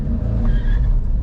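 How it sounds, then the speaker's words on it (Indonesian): A manual car's engine revs hard during a clutch start, pushed above 3000 RPM. It makes a loud, steady roar that holds for the whole moment, with no talking. "Lalu remnya cepat-cepat dilepas dan pindah ke gas untuk kaki kanannya seperti ini."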